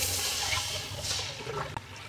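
Water pours into a cooking pot while a goat-leg biryani is prepared, a steady splashing stream that thins toward the end.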